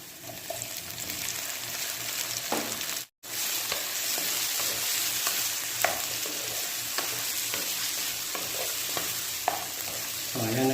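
Tomatoes sauté in a pan, giving a steady frying sizzle with scraping stirs now and then, broken by one brief silent cut partway through, with no talk.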